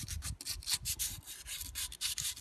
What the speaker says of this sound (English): Cut a piece and then start sanding around these areas where you